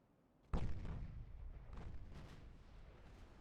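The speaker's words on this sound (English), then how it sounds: "That's the battleship. I could hear that by the sound." Heavy battleship gun firing in the naval game Ultimate Admiral Dreadnoughts: a sudden deep boom after a quiet lead-in, followed by a long rolling rumble and faint later reports fading out.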